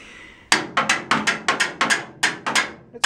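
Sharp metallic taps ring out about a dozen times in an uneven rhythm as emergency brake cables are worked loose from the underside of a VW bus, close and loud with no talking.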